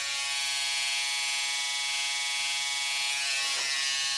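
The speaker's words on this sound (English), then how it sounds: "then I take the trimmer and just dab it" Electric trimmer shaping eyebrows, a close, steady high-pitched buzz that runs without a break and shifts slightly near the end as it touches the brow.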